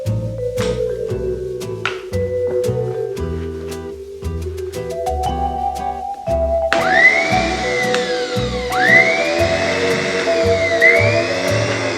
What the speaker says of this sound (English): Just to check the motor side of it.